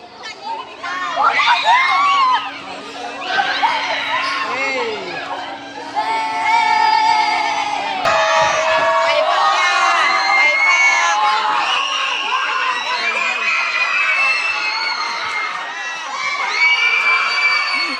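A loud crowd of children shouting and cheering together, high-pitched voices overlapping continuously, with a brief dip before the noise swells again.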